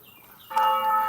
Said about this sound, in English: bell of the church just literally started ringing now in the background